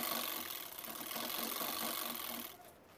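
A sewing machine stitches across fabric for a travel bag with a steady, fast mechanical whir and clatter that runs continuously before easing off near the end.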